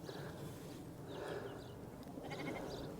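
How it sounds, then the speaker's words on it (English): Sheep and lambs in a field near Ardcath village bleat faintly at a distance, a few scattered calls over a soft, constant outdoor background. "Hello, little lambs."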